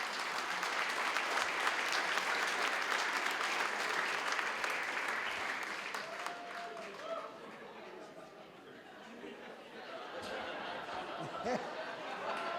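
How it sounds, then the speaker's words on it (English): Audience applause at a civic and community awards ceremony: sustained, dense clapping that eases off partway, with scattered chatter and light laughter mixed in as it thins. "Give them a round of applause, ladies and gentlemen."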